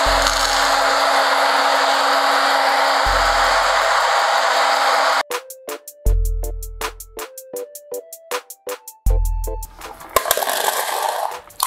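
Oil-free frying machine that roasts food in sand: a steady whirring drone with low thumps, then rapid, regular mechanical clicking and clattering, fairly loud and close, with no talk.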